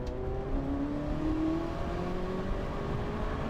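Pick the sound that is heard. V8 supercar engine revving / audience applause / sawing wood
V8 supercar engine revving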